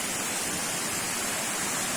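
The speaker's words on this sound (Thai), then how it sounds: "นี่คือบรรยากาศรอบๆน้ำตกผาตาบ ยางชาติศรีนคริน ของผาภูมิ" Pha Tat waterfall in Kanchanaburi, Thailand, gives a dense, even hiss of falling water, steady and close throughout with no other sounds standing out.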